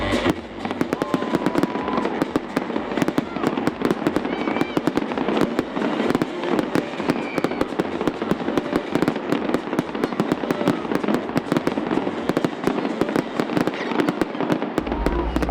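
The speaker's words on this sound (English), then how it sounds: "the crowd was treated to the biggest fireworks show ever." A fireworks show at the downtown Cleveland WinterLand 2023 holiday event: dense, continuous crackling, popping and booming bursts, loud and sustained throughout.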